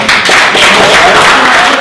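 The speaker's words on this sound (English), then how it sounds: "How about a round of applause to welcome?" An audience claps to welcome a speaker to the stage at a talk. The loud, dense applause fills the whole brief moment with a steady wash of hand claps, and no clear pause breaks it.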